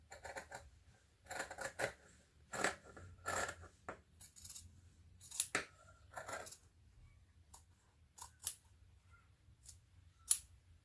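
Scissors snipping fabric close to sewn stitching on a baby sewing project, heard as a quiet run of short, crisp cuts in irregular bursts with pauses between them.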